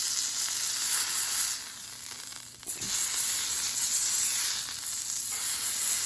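Venison backstrap sizzles on a Blackstone griddle set on high, a loud continuous frying hiss with a brief metallic tong clink partway through.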